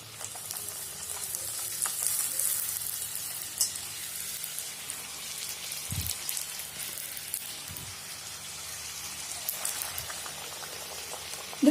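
Puris frying in hot oil give a continuous, gentle sizzle and bubbling hiss up close, with a few soft thumps as the dough is pressed down and no talking.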